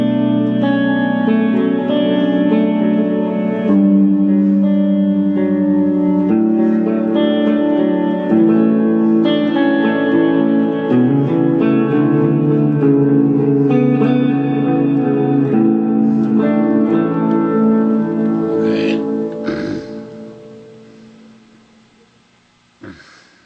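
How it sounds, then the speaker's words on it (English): An electric guitar played through an old rackmount multi-effects unit with pre-EQ reverb rings out in sustained, echoing chords and notes that decay into a reverberant tail, then a brief pickup noise. "Here's one pre-EQ reverb"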